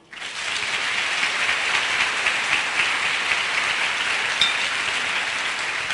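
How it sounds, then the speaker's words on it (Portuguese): Steady, dense applause from a church congregation, a loud continuous wash of clapping that swells in quickly and holds evenly throughout. "Aplauda o Senhor."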